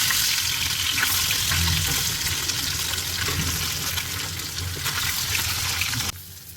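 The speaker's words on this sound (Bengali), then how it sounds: "এখন মাছটা ভাজতে হবে।" Fish fries in hot oil with a loud, steady, dense sizzle that cuts off abruptly just before the end, with no voices.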